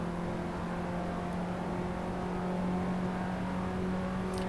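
A race car engine in the video game Assetto Corsa holds a faint, steady drone with a constant whirring tone throughout, low in level and heard alone.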